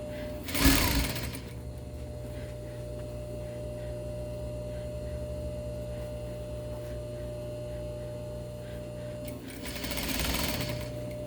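Sewing machine stitching a quarter-inch hem on a shortened sleeve, a steady mechanical whir with a constant hum, running close and continuously between two brief louder handling rustles near the start and end.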